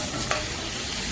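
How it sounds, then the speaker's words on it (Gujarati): Guava pieces are stirred into a sizzling guava-tomato curry in a pan, with a steady frying hiss and a couple of brief scraping strokes of the spoon, close and continuous. "આપણે જામફળને ઉમેરીશું અને જામફળને ઉમેરીને સરસ રીતે મિક્સ કરી લેવાનું છે"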